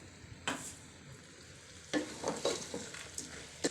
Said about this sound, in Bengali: চাল আর সবজিটা একসঙ্গে একটু ভাজা ভাজা করে নিতে হবে